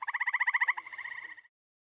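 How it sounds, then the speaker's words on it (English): A green frog calls at a pond, a close, clear run of rapid buzzy pulses that slides into a shorter, softer twangy trill before it stops, alone in silence. "The call of the green frog has been likened to the sound of a plucked banjo string"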